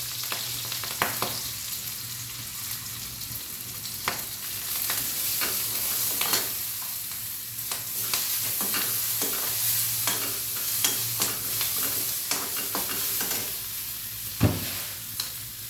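Green chillies with crushed ginger and garlic fry in hot oil for pickle, a loud continuous sizzle broken by repeated close stirring scrapes and clinks of a spoon against the pan.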